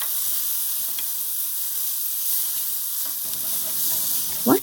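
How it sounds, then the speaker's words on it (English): Carrots and enoki mushrooms fry in a tablespoon of mayonnaise in a hot frying pan, giving a steady close sizzle with light stirring scrapes and a brief louder clatter at the very end. "Add carrots and enoki mushrooms. Fry them in mayonnaise oil."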